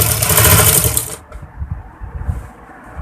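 A sewing machine stitches kurti fabric in a loud, close, rapid whir for just over a second, then cuts off, leaving soft handling and low rustling noises.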